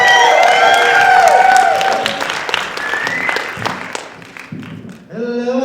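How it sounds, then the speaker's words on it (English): Loud crowd applause with cheering and whoops at a vaudeville night as the MC is introduced, fading over several seconds before a voice begins speaking. "Let's give him a round of applause."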